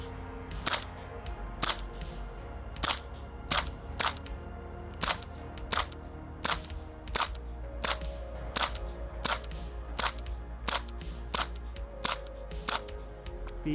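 VFC MP5 gas blowback airsoft rifle firing BBs at a target about 40 meters away outdoors: sharp single shots with a snappy bolt clack, spaced roughly a second apart, over steady background noise.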